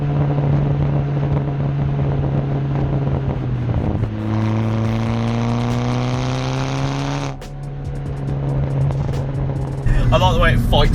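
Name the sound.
Seat Cupra R with K04 hybrid turbo engine running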